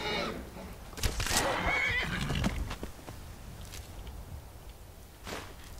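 A horse in the video game Skyrim lets out a loud whinny near the start, then its hooves clop along in the open, with no voices.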